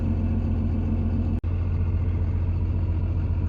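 A second-generation Cummins diesel truck idles warmed up, its exhaust giving a close, steady low rumble with an even throbbing pulse, briefly interrupted by a sharp click partway through.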